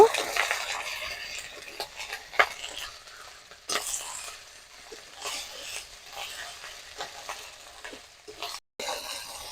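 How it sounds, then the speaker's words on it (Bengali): Green chili paste, cumin paste and spices stirred in a pan, heard as a steady scraping stir over a soft frying sizzle, with a few sharper knocks of the spoon against the pan. "কাঁচা লঙ্কা বাটা আর জিরে বাটা সমস্ত উপকরণ দিয়ে দিয়েছি এবার নাড়ব"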